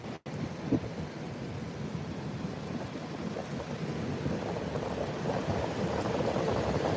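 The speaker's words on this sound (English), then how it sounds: "Yeah, it's definitely windy here today." Wind roars and buffets the microphone at Whitecap Beach on Padre Island, Texas, a continuous low rumble mixed with surf that grows slightly louder over several seconds.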